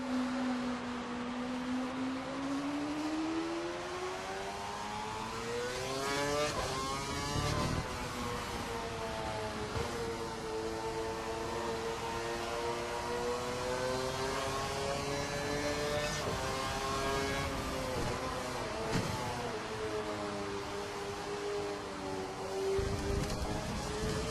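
Formula 1 car engine in the F1 2012 racing game at Brazil, a continuous high-pitched whine rising and falling through gear changes and revs, loud and up close throughout with no talk.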